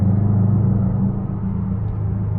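Low, steady engine rumble and road drone from inside a 2018 Subaru STI taking an S-curve, a muffled continuous hum that dips slightly in level midway, with no talking.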